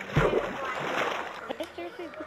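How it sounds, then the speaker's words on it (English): A Minecraft character drops into water with a bright splash followed by sloshing, heard under someone talking. "He landed in the water."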